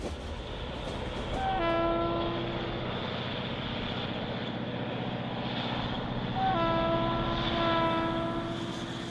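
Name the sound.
train passing on railway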